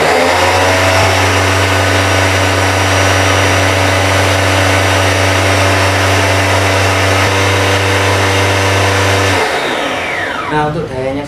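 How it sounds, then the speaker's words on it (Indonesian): A Vici Homewash jet cleaner pressure washer motor runs with no pressure load, giving a loud, steady, close electric whine and hum for about nine seconds before it winds down. "cleaner VC ini dinyalakan tanpa tekanan"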